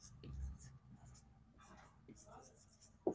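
During a Bengali grammar class, chalk or a marker scratches and taps in short strokes on a board, faint and close, with a soft murmuring voice underneath.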